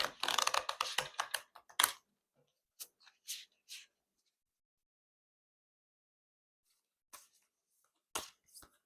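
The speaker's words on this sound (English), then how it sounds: "just gonna shuffle it off camera" Quick bursts of tarot card shuffling riffle close by, a dense clatter for about two seconds, then a few short flicks and taps after long pauses.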